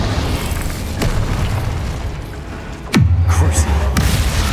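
An Incendio fire spell is cast in Hogwarts Legacy: a loud booming burst lands sharply, followed by a low rumbling roar, with softer thuds before and after.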